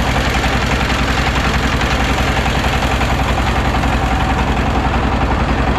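A motorboat engine chugs steadily on the Jamuna river, a loud, close, continuous rhythmic drone that never lets up and has no talking over it.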